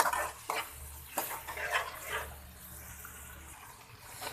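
Mutton mince and onion with garam masala browning in a pan: soft sizzling under a few scraping stirs and clinks of a utensil against the pot, fairly quiet and close.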